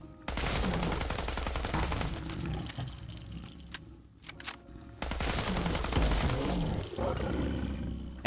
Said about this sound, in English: And somewhere in the realm of 75-ish shots, that Deathclaw is finally down.